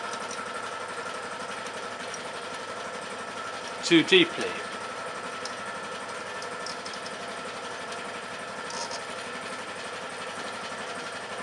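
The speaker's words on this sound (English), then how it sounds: "Excuse the background noise, my compressor cuts in from time to time." A workshop air compressor drones steadily in the background for the whole stretch, with a couple of brief louder knocks midway and someone talking quietly over it.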